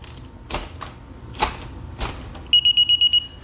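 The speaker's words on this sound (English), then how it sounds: "So to turn the chime on again, you just do the same thing and wait for 3 beeps." A DSC alarm keypad chirps six short, evenly spaced high beeps in quick succession after a few soft clicks and taps of keypad buttons, close and clear with no talking.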